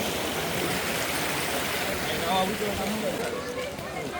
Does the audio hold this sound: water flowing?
yes